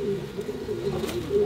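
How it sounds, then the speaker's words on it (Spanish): A pouter pigeon coos softly, a low, steady throaty purr that wavers slightly over a short span, fairly close with faint background noise. "esta preciosidad de paloma."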